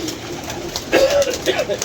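A pigeon coos in a few soft, short notes near the middle and end, nearby and fairly quiet, with a person's voice in the background.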